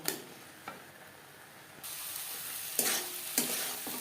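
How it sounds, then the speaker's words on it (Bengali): Carrot halwa is stirred in a kadai as the milk dries off. A steady low sizzle runs under repeated scraping strokes of the spoon against the pan, alone and close. "এভাবে নাড়াচাড়া করতে থাকবো যতক্ষণ না পর্যন্ত কড়াই থেকে ছেড়ে আসছে"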